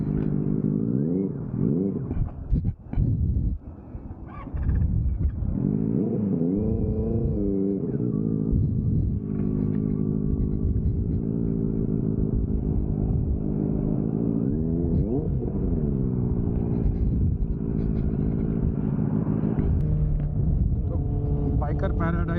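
A Honda H'ness motorcycle riding away from a biker hangout, a steady engine rumble rising and falling with throttle changes, with speech over it much of the time.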